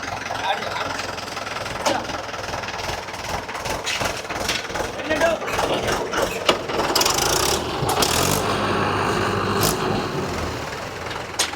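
Vehicle engine running as it is started up to reverse, a steady mid-pitched idling rumble with rattling mechanical clatter, close and loud, with people talking over it outdoors.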